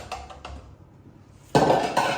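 Vinegar and milk stirred together in a bowl for a red velvet cake batter, giving a few soft clinks and scrapes, then a louder, denser stretch of rapid scraping and clattering near the end.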